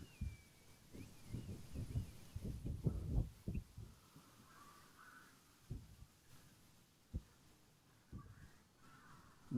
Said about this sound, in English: I hear someone is chasing birds away.